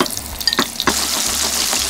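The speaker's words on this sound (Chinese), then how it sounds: "煎咗啲龍蝦嚟" Lobster pieces drop into hot oil over medium-high heat, crackling in a few sharp pops and then settling into a steady, close sizzle with no talking.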